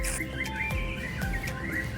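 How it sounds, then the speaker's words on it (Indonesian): Birds chirping outdoors by the Teknopark building at the Kretek Museum in Kudus, Indonesia, short bright tweets repeating over a steady background hum, fairly close and moderately loud. "Ada suara burung."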